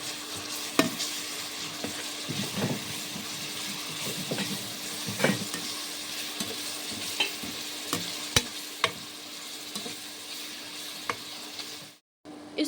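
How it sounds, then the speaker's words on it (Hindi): Ginger garlic paste frying in a pan for Kashmiri chicken gives a close, steady sizzle with repeated scraping and stirring strokes and sharp utensil clinks, cutting off abruptly near the end. "अब इसमें हम डालेंगे जिंजर और गार्लिक का पेस्ट।"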